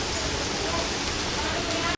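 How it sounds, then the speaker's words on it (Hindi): Heavy rain pours steadily during an outdoor religious gathering in a neighbourhood lane, a dense, even hiss filling the whole stretch at close range without a break. "यहाँ पे इतनी तेज़ बारिश हो रही है यहीं पे।"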